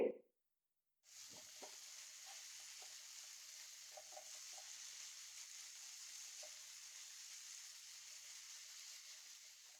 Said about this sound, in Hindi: अब हम 6 to 8 मिनट्स के लिए हाई फ्लेम पे चिकन को फ्राई करेंगे।